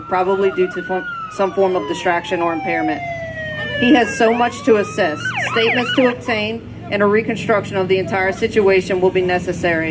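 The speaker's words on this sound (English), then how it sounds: "You can hear additional faint sirens in the background." Sirens from emergency vehicles arriving at a staged mock car crash scene wail in gliding tones beneath continuous narration that nearly masks them.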